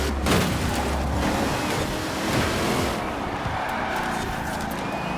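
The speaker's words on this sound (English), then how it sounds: "I can drift it, and we are power sliding in our pizza plant delivery truck" A GMC Typhoon pizza delivery truck power slides in Forza Horizon 4, a dense, continuous roar of engine and rushing tire and wind noise, loud and sustained with slight swells and no talking.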